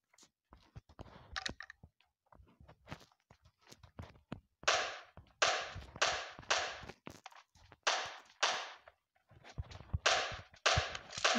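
Gunshots in the PUBG battle game arrive as sharp, loud cracks, first scattered and softer, then in rapid bursts of several shots with short gaps, with no talk over them.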